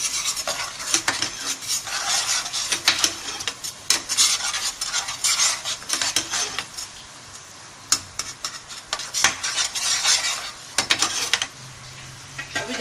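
Spice masala with salt and turmeric stir-fried in a pan over a low flame, for besan kofta: repeated scraping and clinking spatula strokes over a soft, steady sizzle, alone and close.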